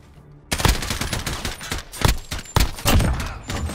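Call of Duty Search and Destroy gunfire: a loud burst of rapid automatic shots starting abruptly, followed by several sharp, close gunshots spaced irregularly, with no talk over them.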